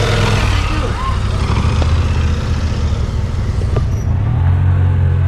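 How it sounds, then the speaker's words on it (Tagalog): Loud motorcycles on a road trip pass by near a roadside hut, their engines roaring as a continuous, heavy rumble beneath a voice speaking. "Mga malakasan ng mga motor, oh."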